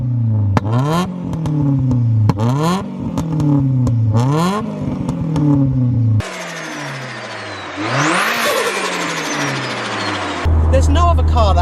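A Nissan 240SX with an SR engine and Garrett GTX2867R turbo revs hard in repeated sharp bursts, climbing and falling in pitch, then a longer pull with turbo whine, close and loud, with people talking around it.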